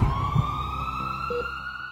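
An ambulance siren wails steadily, loud and fairly close, as one long sustained rising tone that carries alone through the moment with a brief low thump near the start.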